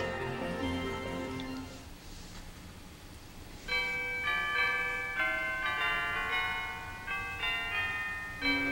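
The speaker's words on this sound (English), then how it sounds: "Pikachu, ring the wish bell for all you're worth." A wish bell in the video game Pokepark 2 rings in repeated bright, resonant chimes after a softer tonal opening, the strikes arriving in an uneven rhythm and ringing on clearly without voices.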